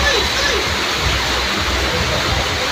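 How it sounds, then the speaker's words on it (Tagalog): Heavy rain pours down in a dense, steady roar, loud and close, with a voice faintly present beneath the downpour. "Lakas ng ulan."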